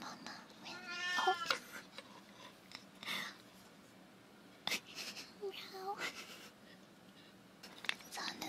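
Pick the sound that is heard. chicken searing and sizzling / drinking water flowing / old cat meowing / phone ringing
old cat meowing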